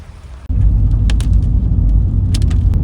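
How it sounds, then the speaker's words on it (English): Heavy rain drumming on a car roof in foggy New Zealand mountains near Milford Sound, a dense, loud, steady wash starting abruptly after a quiet instant and continuing with scattered sharper drop hits. "Back in the car, and man, it is raining still."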